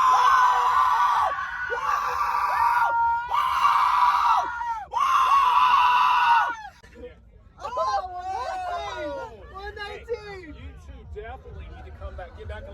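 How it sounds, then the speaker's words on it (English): Several long, piercing screams blast out in a stadium decibel scream booth, each held for about a second with brief gaps, then give way to a noisy crowd of excited shrieks and chatter. "we did a scream booth thing, the decibel up thing, and you go in there, and whoever screams the loudest"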